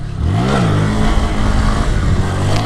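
A Grom motorcycle on off-road knobby tires revs hard for a wheelie, the engine climbing and dropping in loud, close surges with no talk.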